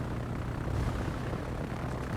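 Propeller aircraft engines of carrier planes in the World of Warships naval game, a continuous droning buzz at steady moderate volume, heard alone.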